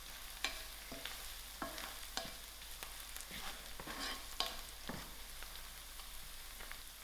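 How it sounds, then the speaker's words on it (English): Onions, garlic, curry leaves and chilies being stirred in a pot, a steady sizzle of frying under repeated scraping strokes of the spoon at an irregular rhythm, close and fairly quiet, with no talking. "I'm going to add in my garlic, my curry leaf, and my chilies. Give this a mix."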